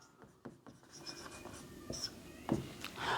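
A marker or chalk writes words on a board in a classroom setting, with scattered short scratching strokes and taps spread across the moment, fairly quiet and close, with no talking.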